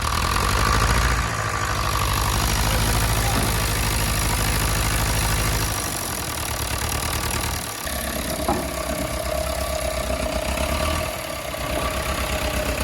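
An old David Brown Crop Master combine engine turns over and then settles into a steady, loud idle. The running note shifts in pitch and load partway through, and there is no talking.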